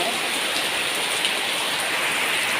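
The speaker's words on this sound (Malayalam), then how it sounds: "സൂപ്പർ മഴയാണ്, സൂപ്പർ മഴയാണ്. കേട്ടോ, അടിപൊളി മഴയാണ്." Heavy rain pours down steadily as a dense, continuous hiss of drops on surfaces, loud and unbroken throughout, with no voices.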